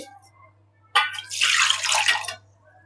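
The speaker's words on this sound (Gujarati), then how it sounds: "આની અંદર પાણી નાખીશું" A short burst of water pouring into a pot of soaked rice and lentils for masala khichdi, splashing for about a second and a half against a quiet background hum.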